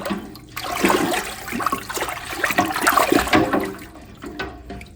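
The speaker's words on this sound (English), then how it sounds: "Pretty much just the hot water, like real hot water from the tap will be all you need." Hot water gushes loudly from a tap in an uneven, splashing stream, with no voices.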